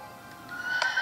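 A horse whinnies in the Minecraft video game, a short rising tonal call that sounds alone above a faint steady background.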